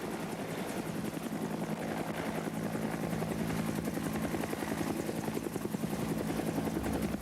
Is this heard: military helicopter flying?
yes